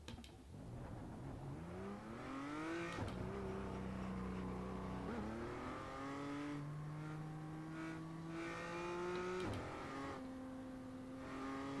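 Race car engine in the iRacing sim revs and shifts through gears, its steady harmonic drone rising in pitch, dropping at each upshift, then climbing again; loud and continuous with no talking.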